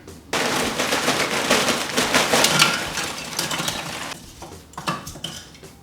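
Big lumps of lump charcoal clatter and crunch as they are handled and tipped into a Kamado Joe grill, a dense run of close, loud rattling and knocking that thins into a few scattered clinks toward the end.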